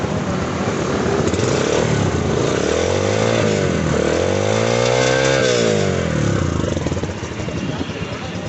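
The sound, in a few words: motorcycle engine idling after service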